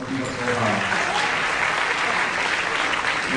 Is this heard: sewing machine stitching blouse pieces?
no